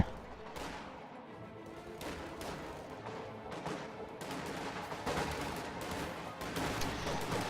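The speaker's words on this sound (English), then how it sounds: "MG42 moving up here towards the middle fuel, firing on the riflemen right there." MG42 machine gun in a World War II strategy game firing on riflemen, heard as dense bursts of rapid gunfire with sharp cracks over the steady rumble of battle, moderately loud and continuous, with no talking.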